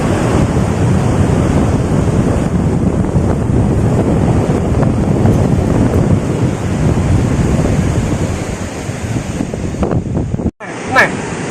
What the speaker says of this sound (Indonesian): Dan ombaknya juga gede.